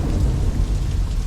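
Heavy rain pours in a dense, rumbling roar, with deep low rumble like distant thunder underneath and no voices.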